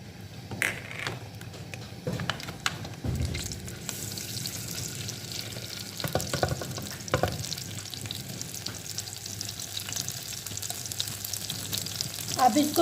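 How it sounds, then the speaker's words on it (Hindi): Ginger garlic paste sizzles and crackles steadily in oil in a pan with occasional scraping and clinking of a spoon stirring, moderately close. "मैं साग को तड़का लगाने लगी हूँ"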